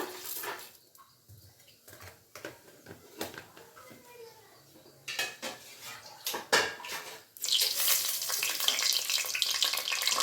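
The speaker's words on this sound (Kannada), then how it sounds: "ಹಾಗೆ ಎಣ್ಣೆ ಬಿಸಿ ಆಗಿದೆ. ಈಗ ಸ್ವಲ್ಪ ಸಾಸಿವೆ ಹಾಕೊಂಡ್ಬಿಡೋಣ." Mustard seeds go into hot oil for tempering a masala okra sambar. Pots and utensils clatter first, then a loud, dense crackling sizzle fills the last few seconds.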